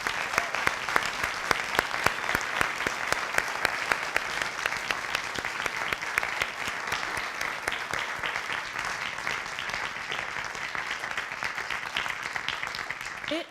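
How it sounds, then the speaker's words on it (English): A conference audience gives a sustained round of applause for the event organizers: a long, steady wash of many hands clapping that holds evenly for over ten seconds, full and fairly close, with no speech on top. "Will you join me in giving them a round of applause?"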